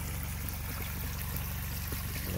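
Water flowing from a motor-driven pipe into a sandy field for flood irrigation, a steady close rushing and trickling with a low engine hum underneath.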